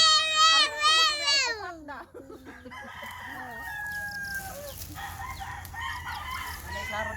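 A rooster crows loudly nearby, then chickens cluck and squawk around, with voices talking faintly in the background.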